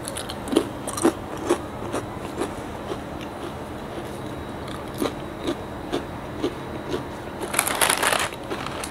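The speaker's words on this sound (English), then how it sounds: "It's a very basic salted chips, so there is no flavor, but it is very crunchy." Salted plain potato chips crunched in a series of sharp, close bites spaced about a second apart, with a denser burst of crunching near the end and no talking.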